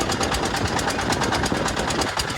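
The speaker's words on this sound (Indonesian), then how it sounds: "Suara motornya berisik sekali." A diesel-powered tourist boat motor runs near Marunda harbour, a noisy, close, rapid rhythmic chugging that stays constant throughout.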